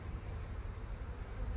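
A low, steady buzzing hum of many honeybees inside a hive, dense and continuous at close range.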